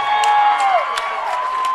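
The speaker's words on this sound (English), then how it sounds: "this loud Victor crowd here tonight as the Blue Devils go back on top" A loud home football crowd at a night Victor Blue Devils high school game roars and cheers continuously after a go-ahead touchdown, with whoops and shouts rising above the steady crowd noise.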